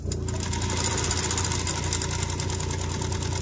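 Sewing machine stitching a seam on a wheelchair walker bag, a close, steady mechanical whir with a fast even rhythm running without pause.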